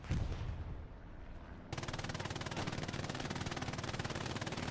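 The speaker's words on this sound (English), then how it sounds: "Throws another nade." A thrown grenade in the console shooter Hell Let Loose bursts loudly at the start and trails off, then sustained rapid machine-gun fire rattles densely through the rest of the battle.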